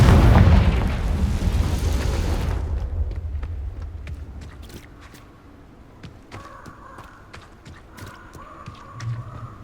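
A Confringo blast spell bursts in Hogwarts Legacy, one loud booming explosion that fades over a couple of seconds and is followed by quieter scattered clicks and impacts.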